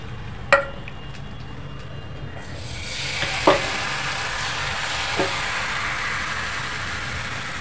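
Ghavane rice batter sizzles steadily on a hot pan after a few sharp clinks of utensil against metal, the frying hiss swelling and holding evenly throughout, close and fairly loud.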